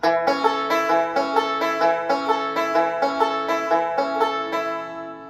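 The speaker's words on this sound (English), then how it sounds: "Okay, the next roll is the square roll" A bluegrass banjo picks a repeating square roll pattern, clear plucked notes in an even steady rhythm, played alone up close and left ringing at the finish.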